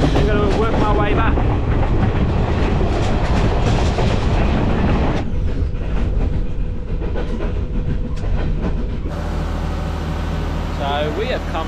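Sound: train riding on rails, Kandy Express in Sri Lanka

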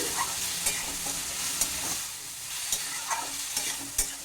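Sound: spice paste frying with water, stirred, for taro dish

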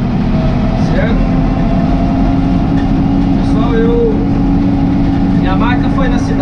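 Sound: LS Plus 80 tractor engine running at about 2,000 RPM

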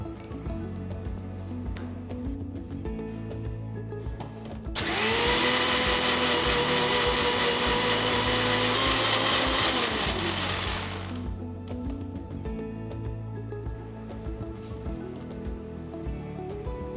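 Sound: mixer grinder grinding soaked urad dal

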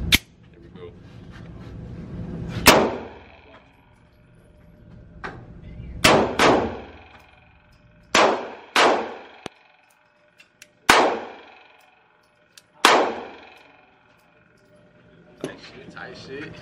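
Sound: pistol shots during a recoil control test

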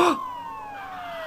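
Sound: police car siren in Ace Attorney video game

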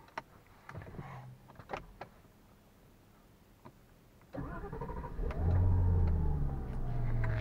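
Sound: car engine started with push-button start

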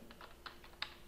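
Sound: typing on a computer keyboard

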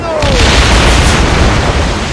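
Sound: catapults firing in Assassin's Creed Origins naval battle, video game

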